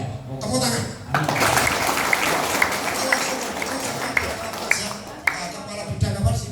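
An audience at an inmates' dialogue session in Karawang prison, West Java, claps steadily for several seconds with a dense, crowded patter, fading out with a few final claps; people speak before it begins.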